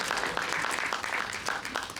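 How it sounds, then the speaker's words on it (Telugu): Audience applause at a film pre-release event, a dense, steady patter of clapping filling the hall, heard close and continuous with no voices over it. "ఒకసారి గట్టిగా క్లాప్స్ అండి."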